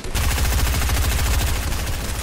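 Rapid video game gunfire rattles continuously in a dense, steady burst of automatic shots during a squad match, loud and close with no pauses.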